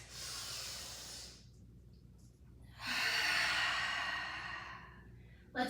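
Breathing during a Pilates mat exercise: a long, airy breath, a short lull, then a longer, stronger breath through the nose, close and soft.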